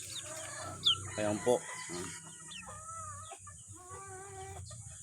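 Male chick peeping on the seventh day of Tilmoco drops: a few thin, high chirps rise and fall close by, with a short burst of speech and handling noise in between.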